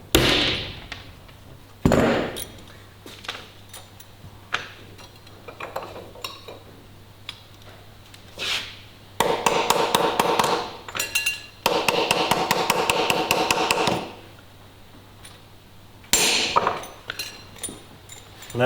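Copper rivets are hammered onto a leather belt in sharp, loud metallic taps, some single and some in quick rapid bursts, separated by short pauses of quiet.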